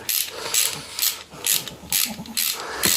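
A ratchet tightens a 3/8 nut during an emergency brake rebuild on a 1996 Cushman Titan, with six or seven short bursts of rapid clicking, close up and evenly spaced, with brief pauses between strokes.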